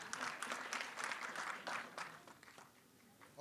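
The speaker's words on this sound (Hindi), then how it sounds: "एक बार शिल्पा जी के लिए जोरदार तालियां हो जाएं प्लीज।" Audience applause for Shilpa Shetty at the trailer launch of Aa Gaya Hero, a burst of crowd clapping that is fairly faint in the hall and tapers off after about three seconds.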